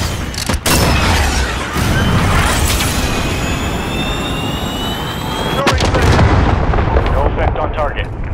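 Video game missile launch and blast, a dense roaring rumble with jet-like whine and heavy booms throughout, loud and close, with a deep impact partway through.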